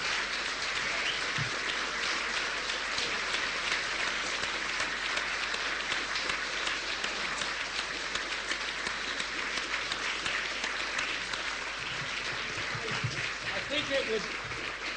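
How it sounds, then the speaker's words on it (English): An island audience rises for a standing ovation, sustained loud clapping from a large crowd that runs unbroken for about fifteen seconds, with faint voices and cheers mixed in. "Now you can stand up and applaud."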